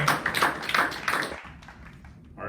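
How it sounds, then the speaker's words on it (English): Audience claps for Luke Broerman during a cross country senior spotlight show: a burst of moderately loud, scattered applause that fades after about a second and a half into quieter room noise. "how about a big hand for Luke Broerman?"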